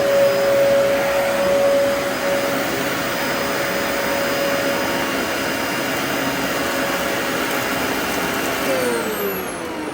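An upright Riccar vacuum cleaner runs continuously up close on carpet scattered with rice, giving a steady loud motor roar with a faint high whine. No one speaks.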